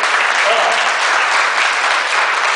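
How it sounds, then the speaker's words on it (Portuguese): Audience applause fills a sales and motivation talk on handling nervous customers, a dense, steady clapping from a sizable crowd that holds at even loudness for the whole stretch with no voices over it. "Na salva de palmas"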